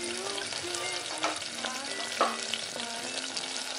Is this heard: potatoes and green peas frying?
yes